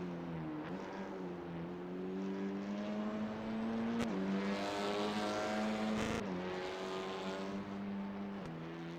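Race cars lap Daytona International Speedway in a TCR racing sim game, a steady engine drone with rising and falling pitch as several cars pass, continuous and fairly loud.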